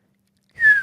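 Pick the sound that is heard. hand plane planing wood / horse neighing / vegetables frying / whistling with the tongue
whistling with the tongue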